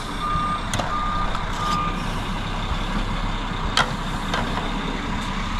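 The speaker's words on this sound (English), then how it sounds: "All right, the third concrete truck is here." A concrete truck reversing at a flooded apartment job site, its backup alarm giving a steady series of loud, evenly spaced beeps over a continuous diesel engine rumble.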